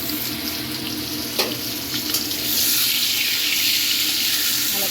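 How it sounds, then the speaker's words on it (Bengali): Potatoes for a meat curry fry in ghee, giving a steady, close hiss of sizzling that grows slightly louder halfway through, with a few brief clinks and no voices. "মাংসের আলুগুলো লাল লাল করে ভেজে নিচ্ছি"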